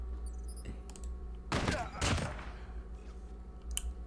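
Video game gunfire comes in two sharp bursts close together, loud and crackling over faint background game sounds.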